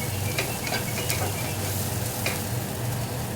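A spice mixture fries in a pan with a continuous close sizzle, broken by repeated scraping strokes as it is stirred.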